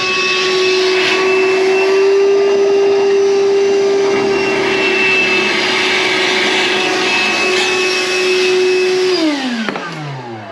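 A loud, steady wet vacuum roars as it sucks water from the bottom of a toilet pan during an emergency call-out for a leak through a ceiling. Near the end its whine drops as the motor winds down.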